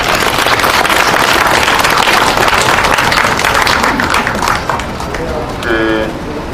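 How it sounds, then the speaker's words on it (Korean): Audience applause at a Korean memorial ceremony for Kim Gu, a dense sustained clapping crowd that continues loud throughout and eases slightly near the end, with a voice beginning to speak in the final second. "김인수 선생님께 박수 한번 보내주십시오."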